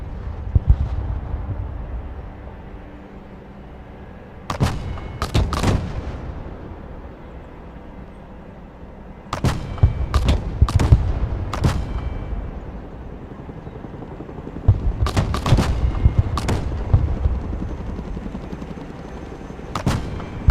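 Artillery fire mission in the video game Broken Arrow: several clusters of sharp, loud cannon blasts and explosions, in bursts of two to four shots separated by quieter stretches of rumbling background, with no talking.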